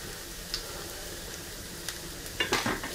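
Garlic and tomato paste roasting in a pan for a bean soup, a soft continuous sizzle with occasional light clicks of a utensil, quiet and close, a few sharper scrapes near the end, no voices.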